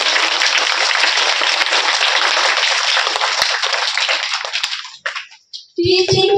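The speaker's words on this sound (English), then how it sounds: "Please clap for them." Dense, loud clapping from a school audience applauding preschool teachers at an annual prize-giving event, a steady wash of many hands that fades out, followed by brief voices.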